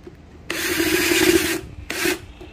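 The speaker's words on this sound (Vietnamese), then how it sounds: "các bạn bắt ốc lại thôi" An electric kettle being screwed back together gives two close rubbing, scraping bursts: a long one of about a second, then a shorter one after a brief pause, with no talking.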